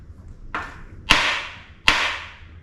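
A hammer strikes a rusty, seized Mopar engine three times. A lighter tap is followed by two loud metallic clanks that ring and decay, and the later hits have a fuller tone.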